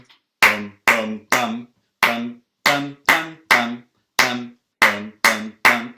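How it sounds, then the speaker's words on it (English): Eleven sharp hand claps mark the accents of a spoken rhythm, uneven groupings with short pauses between bursts, close and loud with no other sound. "I clapped the accents."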